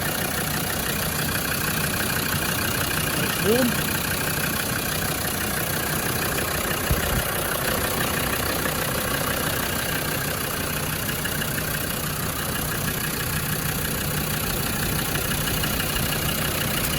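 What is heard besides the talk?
Land Rover Defender 110 TD5 engine idling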